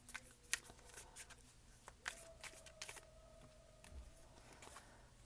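Tarot cards being shuffled and drawn from a deck: soft, quiet riffling and slapping card sounds in short bursts, fairly close, with no talking.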